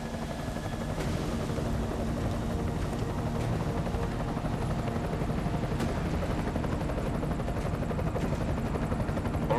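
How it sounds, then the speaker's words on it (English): An enemy helicopter in the video game Deus Ex: Mankind Divided drones steadily throughout, a dense continuous rotor-and-engine roar holding at an even level from start to finish with no talk over it. "Enemy helo sighted."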